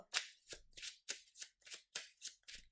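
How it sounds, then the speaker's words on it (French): Playing cards riffle as they are shuffled into a deck during a Marvel Champions card game, eight quick crisp bursts in a steady rhythm, close and alone. "Hop, je prends une carte de la carte rencontre et je le mélange dans le deck joueur"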